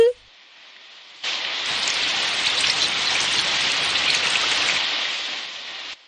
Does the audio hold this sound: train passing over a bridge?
no